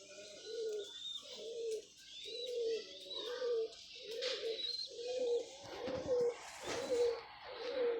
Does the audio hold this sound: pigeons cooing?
yes